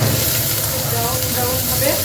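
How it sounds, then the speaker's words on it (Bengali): Chopped onion hitting hot oil in a home kitchen pan, giving a steady, loud broadband hiss with a faint voice underneath. "তেলটা গরম হয়ে গেছে, দিয়ে দেবো পেঁয়াজ কুচি।"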